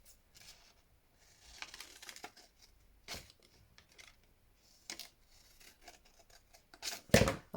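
Scissors snip through folded paper for a craft tag, giving a few separate crisp cuts spread out with quiet gaps, the last snip the loudest and closest.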